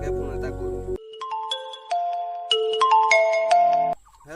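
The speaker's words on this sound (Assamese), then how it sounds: "পলাশলৈকে ফোন এটা কৰো" A mobile phone plays a melodic ringtone while an outgoing call is placed, a clear, loud sequence of tones following a short burst of louder sound at the start.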